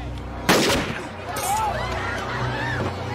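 A single loud revolver gunshot cracks sharply in a CSI: NY street scene, then fades into a busy background of voices and city noise.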